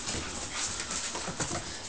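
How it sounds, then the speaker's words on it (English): A seven-week-old puppy whimpers and whines in brief, faint bursts over a steady hiss of background noise. "Get that big doggy."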